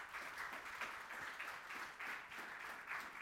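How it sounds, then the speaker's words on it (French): Audience applause at a 3 Suisses press conference: a dense, steady wash of many hands clapping, fairly faint and distant, running throughout with no voices over it. "je vous demande d'accueillir et d'applaudir très fort Éric Dubois"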